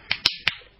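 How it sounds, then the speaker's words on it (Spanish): Three sharp finger snaps, crisp and close, spaced unevenly over under a second with no talk around them. "Chasquidos."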